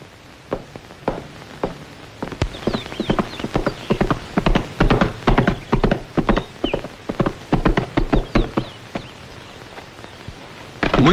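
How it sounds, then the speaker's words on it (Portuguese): Horse hooves clip-clop steadily and fairly close, the rhythmic footfalls building from a few scattered strikes into a dense, even walking pattern with no talk over them. "Que tal o cavalo?"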